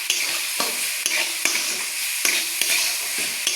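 Grated coconut and sugar being stirred in a pan over medium heat: steady broadband sizzle with repeated sharp spatula scrapes at a quick, uneven rhythm, close and fairly loud, no voices.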